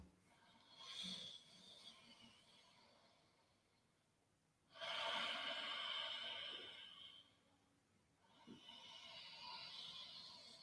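Slow, deep ujjayi yoga breathing: soft, hissing ocean-like inhales and exhales drawn out in long waves, close and quiet with nothing else around.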